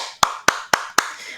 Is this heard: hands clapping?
yes